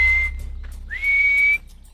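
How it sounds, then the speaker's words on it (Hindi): Two loud, clear whistles at a camp, made to call back friends who went off to look for honey: a steady held tone, a short pause, then a longer whistle that rises at the start and holds before stopping abruptly. "कैंप में मौजूद लोग अब अपने उन दोस्तों तक पहुंचने के लिए सीटी बजा रहे हैं"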